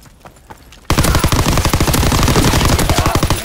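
Sustained suppressing gunfire in Call of Duty WWII, a rapid machine-gun burst erupting abruptly after a quiet moment and continuing loud and close as a dense stream of shots.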